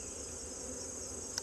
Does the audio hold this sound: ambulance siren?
no